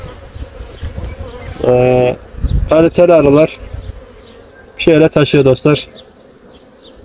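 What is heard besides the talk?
honeybees buzzing at hive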